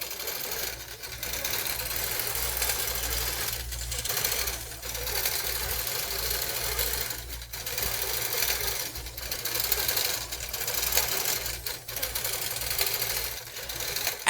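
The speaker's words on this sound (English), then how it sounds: "It's sewing and tying off" A Grace Company automated quilting machine sews steadily at close range, a continuous mechanical whir and rapid needle chatter with periodic louder surges, with no talking.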